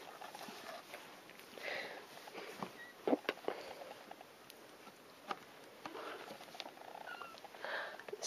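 Kittens purr softly up close in a quiet room, with light rustling and small pattering movements around them.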